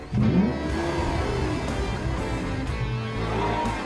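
A Lamborghini Aventador engine revs loudly up close, rising sharply at the start, then holding a sustained growl with smaller swells.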